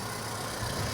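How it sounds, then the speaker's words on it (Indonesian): A 2005 Suzuki Aerio with a 1500 cc four-cylinder engine idling, a steady, smooth low hum with an even rumble that swells slightly near the end, heard alone. "Dan ini suara mesinnya."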